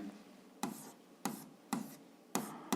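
Pen strokes on paper, five short distinct scratches spaced roughly half a second apart, quiet and close, with faint rubbing between them.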